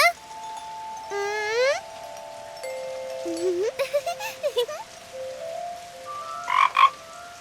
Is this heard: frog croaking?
yes